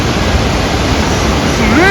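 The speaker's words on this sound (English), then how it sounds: "powerful impact on the rocks that generate the noise." Water of Cameron Falls, Alberta, pounds the rocks below in a constant heavy roar heard up close, with a short voiced sound rising briefly near the end.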